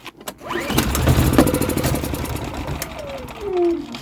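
A small engine, choked and given a spray, sputters to life with a rough, uneven rattle, runs briefly, then winds down and dies, its pitch sliding lower as it stops.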